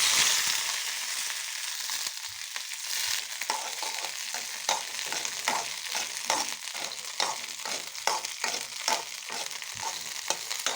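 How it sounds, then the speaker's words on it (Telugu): Green chillies frying in hot oil give a steady, close crackling sizzle, with regular clinks and scrapes from stirring throughout and no talk. "ఇట్లా మిర్చి వేగే వరకు మనం వేయించుకోవాలి కొద్దిగా బాగా"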